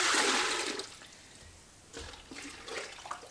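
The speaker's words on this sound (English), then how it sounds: "So I'm just going to fill this pot up with water" Water gushes loudly into a pot for about a second, drops to a quiet lull, and then returns in softer splashing bursts, rinsing soap residue from a felt hat.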